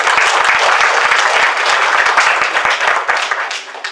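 Loud, dense applause from an audience at a magic show, a continuous wash of many hands clapping that holds strong and then tapers off toward the end.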